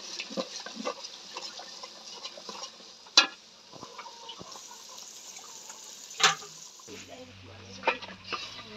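Meat with ginger and spices frying in a pan for a village-style deshi chicken curry, giving a soft continuous sizzle broken by a few sharp clinks and scrapes of stirring.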